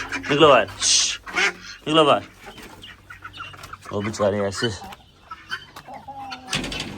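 A hen clucks and calls near partridge chicks in a pen, her short bursts mixed with high peeps close by while someone talks over much of it.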